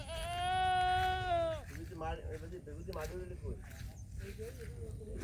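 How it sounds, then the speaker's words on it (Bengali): A goat at a fish-farm enclosure gives one long, loud, wavering bleat close by, followed by people talking nearby over a low background rumble. "ছাগলের আওয়াজে অবস্থা খারাপ"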